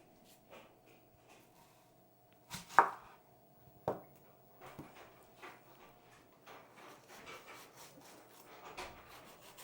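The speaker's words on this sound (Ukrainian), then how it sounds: "Цибулю нарізаю кубиком." Quiet, irregular knife taps on a cutting board as an onion is diced into cubes, a few sharper strikes among softer, scattered cuts.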